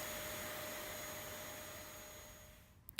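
A Kenwood Xtreme Cyclone vacuum cleaner runs with a steady, even whooshing drone and a faint tonal whine, fairly quiet, before a couple of small clicks at the very end; no one speaks.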